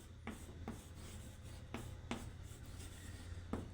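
Writing on a board during a lesson: a series of short, crisp strokes and scratches in an irregular rhythm, fairly close, with a low background hum and no talk.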